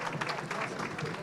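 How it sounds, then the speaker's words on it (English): Quiet applause from a conference audience, with a soft, dense patter of clapping under faint crowd noise. "Let's give them a round of applause."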